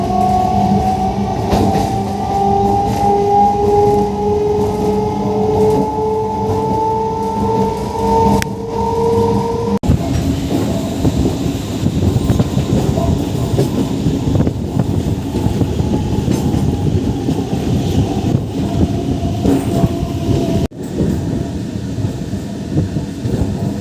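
An EMU suburban electric train runs on the Chengalpattu to Arakkonam route, heard from on board as a loud continuous rumble and rattle of the wheels. An early tonal whine glides upward, and two sharp clunks mark track joints.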